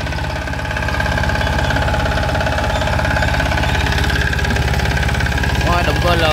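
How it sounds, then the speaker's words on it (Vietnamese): A Yanmar L40 diesel engine runs steadily at idle, a loud, close, continuous chugging hum with even rhythmic knocking throughout. "Máy nổ ngon lành nha"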